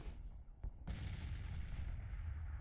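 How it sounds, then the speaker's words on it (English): Artillery bombardment in the Civil War strategy game Grand Tactician: a sharp cannon boom opens, then a second heavy blast near one second rolls into a long rumbling low roar that carries on to the end, steady and dense with no talk. "concentrated artillery fire in a massive bombardment using rapid fire"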